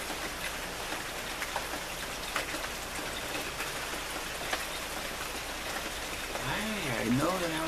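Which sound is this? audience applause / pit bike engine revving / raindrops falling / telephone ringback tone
raindrops falling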